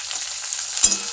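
Chopped onions frying slowly in a pan over a gas flame, a steady soft sizzle with no voices, broken near the end by one brief clunk of a spoon or pan.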